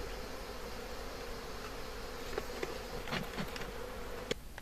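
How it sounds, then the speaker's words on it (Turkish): Honey bees from a hive in Akseki swarm in a steady, dense buzz close by, with a few individual bees zipping past louder near the end. "Kovanlarımızdan kaçan arılar taş kavukları ve ağaç kavuklarına girerek yuva yapıyorlar"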